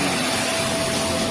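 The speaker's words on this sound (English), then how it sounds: "move it over to the low pile carpets and the suction is great" Vax Mach Air corded upright bagless vacuum cleaner running on low pile carpet, a steady close, loud motor whine and suction roar throughout with no speech.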